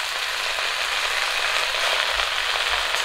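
Red amaranth greens fry in a pan over browned onion, with a close, steady sizzle and soft crackle and occasional low bumps of stirring.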